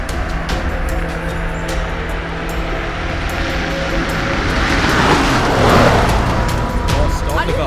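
A car drives on steadily with a continuous loud engine and road rumble that swells slightly near the end, and no other distinct sounds stand out.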